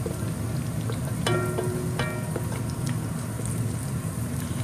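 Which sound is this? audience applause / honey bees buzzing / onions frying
onions frying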